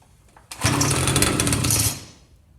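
A John Deere 300cs chainsaw engine on choke catches after a pull and roars briefly at high revs for over a second before cutting out, loud and close, no talk.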